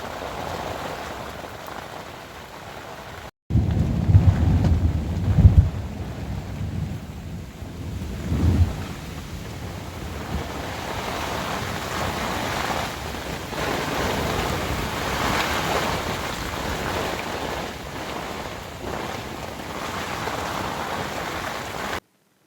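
Heavy rain pounds a tent at a night campsite during a thunderstorm with 35 mph winds; a steady wash of rain is broken by deep, rumbling gusts or thunder early on, then continues loud and unbroken.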